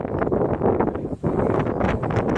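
Steady, heavy wind buffets the microphone throughout on a high walk near a waterfall, a loud continuous roar with a momentary lull in the middle.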